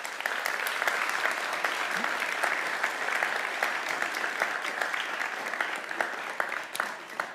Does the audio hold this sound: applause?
yes